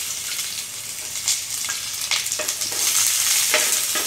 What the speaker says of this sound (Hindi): प्याज थोड़ा ब्राउन होने देना है